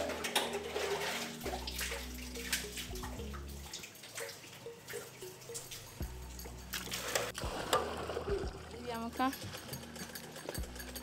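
Food for ademe soup being washed by hand in well water to rinse off sand in Ghana's Volta region: repeated sloshing and splashing with drips, under people talking.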